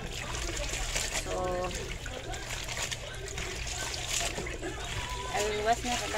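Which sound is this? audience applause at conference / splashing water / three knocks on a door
splashing water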